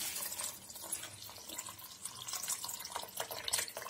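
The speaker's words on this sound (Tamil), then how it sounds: "இப்போ வந்து பருப்பு தண்ணி எல்லாம் ஊற்றியாச்சு." Lentil water is poured into a pot of wood apple rasam, making a fluctuating splashing and trickling that swells and fades over a few seconds, close by and with no talking.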